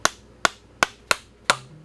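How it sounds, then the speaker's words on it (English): Five sharp, loud hammer strikes from a Park Tool hammer drive an axle through an aluminum BMX front hub, spaced unevenly with quick decays and no talking. "we're going to hammer the axle through the hub"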